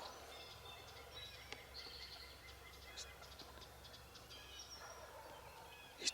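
A wild turkey gobbles somewhere out in the woods during a hunt, faint and distant, with brief gobbling bursts rising over a quiet background of outdoor ambience.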